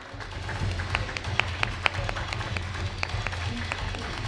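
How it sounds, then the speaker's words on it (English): Audience applause at an EV after-sales industry panel event, a scattered round of clapping with some sharper individual claps standing out over a low room hum. "A loud round of applause for him for being able to make it despite all odds"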